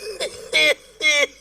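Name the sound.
cough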